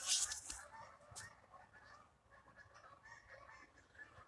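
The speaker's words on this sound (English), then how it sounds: "The goose." A goose honks faintly a few times in a garden, short nasal calls rising over a quiet background with low ambient noise.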